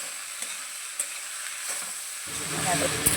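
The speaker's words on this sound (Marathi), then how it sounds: "चांगलं परतून घेते" Food sizzles in a hot pan as it is sautéed, quiet at first with a few soft clinks of stirring, then a louder, steady frying crackle begins partway through.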